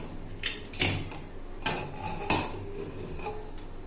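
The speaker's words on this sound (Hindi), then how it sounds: "तो अब हम कुकर को ओपन कर लेते हैं" A pressure cooker lid is worked open in a home kitchen while cooking Rajasthani ker sangri, giving several sharp metallic clanks and clicks at uneven intervals, close by and with no talking.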